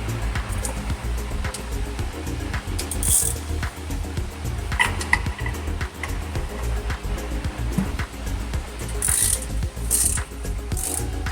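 A ratchet clicks in short bursts while bolts come out during a clutch replacement on a Honda Civic Si, close and fairly loud amid metallic clatter and handling noise, with no talk.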